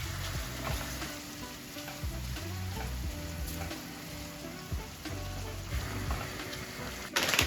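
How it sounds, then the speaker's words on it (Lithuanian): Mushrooms sizzle in a pan with already-fried onion and garlic, a steady close frying crackle with occasional stirring scrapes throughout. "Dedam grybus ir kepinam iki tol,"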